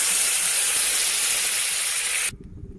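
Amul butter sizzles in a kadhai on a gas stove, a loud, steady hiss that cuts off abruptly near the end, leaving only faint low clatter.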